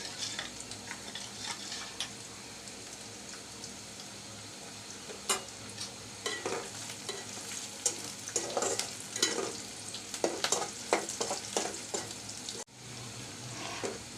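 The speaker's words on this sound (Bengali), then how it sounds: "মাছটা কষানো হয়ে গেছে" Fish sautés in a pan with a steady, close sizzle and crackle throughout, broken by scraping stirs and sharper spatters as the oil hisses.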